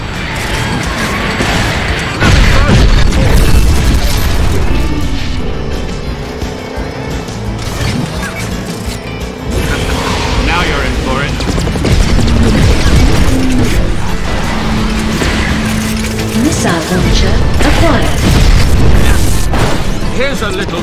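Missile attacks blasting targets while racing as Finn McMissile (Union Jack) in Attack Mode on Radiator Springs in the Cars 2 video game: loud, dense booms and crashes over a constant engine roar, with game voices speaking throughout.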